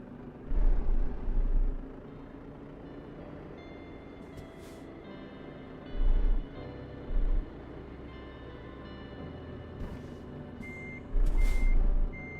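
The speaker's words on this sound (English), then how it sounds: "As I'm trying to park here, I'm very close, but I think parking the truck in American Truck Simulator is a little easier than here." Reversing beeps from a truck parking in the video game American Truck Simulator, several clear intermittent bursts of loud electronic beeping over a steady engine rumble, with no talking.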